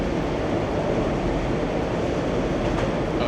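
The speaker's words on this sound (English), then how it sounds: "Oh yeah, the train." A train passing close to a building, a steady loud rumble and rushing roar that holds constant throughout, with no talking.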